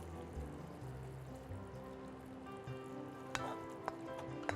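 Prawns going into a thick, rich tomato and spice gravy for prawn ambotik, with a steady low simmering bubble and sizzle, stirring and a few sharp clinks of a utensil against the pan.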